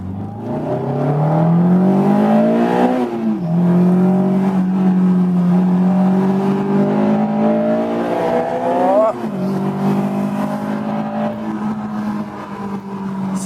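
A Honda S2000 AP1 sports car engine on the standard exhaust revs loudly and continuously, the exhaust note rising and falling through several gear changes, close and powerful.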